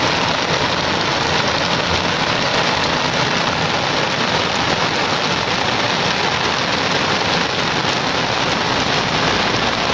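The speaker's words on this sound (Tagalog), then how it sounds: "okay lang po na umulan kasi talagang gusto kong umulan" Steady, dense rain pours down over a garden of succulents and portulaca, a loud continuous hiss with no breaks, heard alone with no voices.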